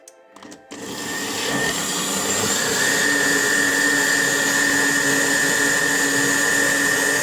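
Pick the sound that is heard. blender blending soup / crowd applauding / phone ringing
blender blending soup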